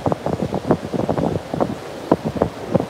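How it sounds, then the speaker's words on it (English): Outdoor wind buffets the microphone in steady gusty rumbles with uneven bursts, moderately loud and close, with no voices. "the wind is definitely a challenge for crocheting today"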